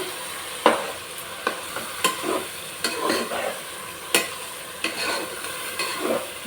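Raw ginger, garlic and green chilli paste stirred into vegetables frying in oil for veg biryani: rhythmic spoon knocks and scrapes against the pan over a continuous close sizzle.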